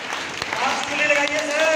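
A seminar audience at a business meeting claps with four fingers, making a brief, full burst of applause. A voice speaks over it, with tonal vocal lines running through the clapping.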